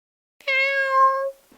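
A cat gives a single clear, drawn-out meow, close and distinct against silence, lasting just under a second.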